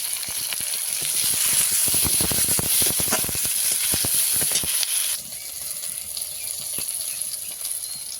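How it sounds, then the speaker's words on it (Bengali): Chopped onion sizzling in leftover fish-frying oil with green chilli and five-spice, a steady loud hiss with crackling pops that ease off partway through into a softer continuous sizzle. "মাছ ভাজার তেলে পেঁয়াজ কুচি দিয়ে দিয়েছি পেঁড়া কাঁচা লঙ্কা পাঁচ ফোড়ন"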